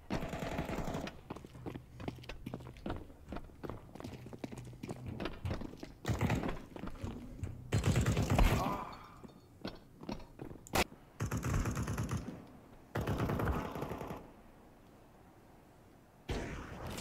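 Gunfire in the Counter-Strike 2 video game, loud bursts of rapid shots with sharp single cracks in between, separated by short pauses.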